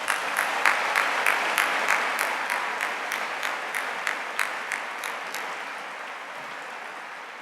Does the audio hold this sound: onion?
no